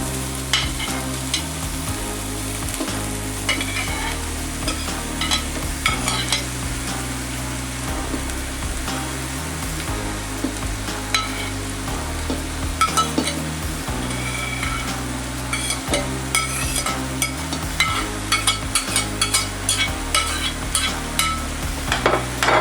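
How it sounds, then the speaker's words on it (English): Beef, onions and green pepper sautéing in a pot for chili con carne, a continuous sizzle broken by frequent scraping and knocking of a spoon against the pot, close and fairly loud. "we just want to saute it until the onions are sort of translucent now"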